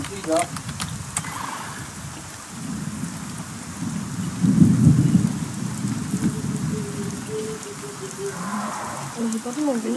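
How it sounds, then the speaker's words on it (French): Heavy rain pours steadily with rumbles of thunder in the video game The Isle, while a few voices talk faintly in the background. "Oh non, c'est vrai, il pleut fort."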